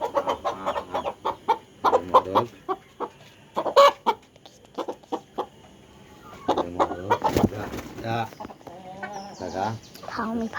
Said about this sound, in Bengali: এই যে আমার মোরগ টাইগার মোরগ।